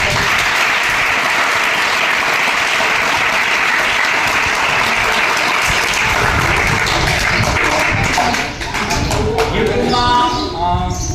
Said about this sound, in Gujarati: તો આપણે સાહેબને તાળીઓથી જય કરો.